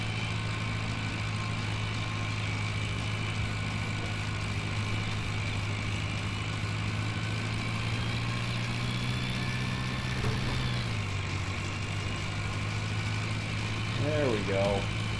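Car engine running in the Farming Simulator video game, a steady low idling hum throughout that dips slightly in pitch near the end, with a voice talking over it.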